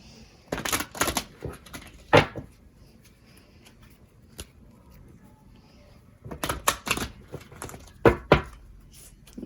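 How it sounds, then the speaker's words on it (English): A deck of angel message cards is shuffled by hand in quick papery bursts, two clusters of riffling and tapping separated by a quiet pause. "One more shuffle."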